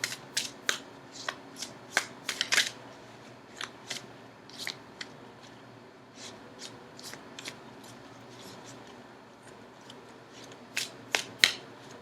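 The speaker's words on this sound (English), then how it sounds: "I'm going to shuffle for just a few more seconds" Tarot cards are shuffled in quick bursts of crisp riffling and flicking, with short pauses between, close and fairly quiet.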